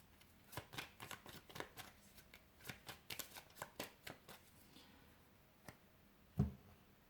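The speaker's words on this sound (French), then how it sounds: "Des cartes sous mélange." Tarot cards being shuffled by hand, a quick series of soft riffling flicks and taps, fairly quiet and close, with a single sharper snap near the end and no voices.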